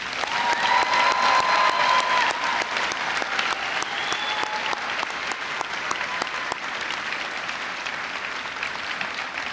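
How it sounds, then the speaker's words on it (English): A round of applause for a high school class of 2025 in a gym, steady clapping from a crowd with distinct sharp claps and a few whistle-like cheers early on. "Please, a round of applause."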